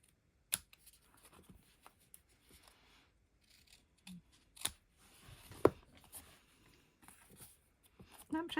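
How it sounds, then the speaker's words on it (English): Scissors trimming paper for a stamped gift bag and tag craft give a few faint, crisp snips spaced apart, surrounded by quiet handling rustles and taps on a table. "And then trim that off."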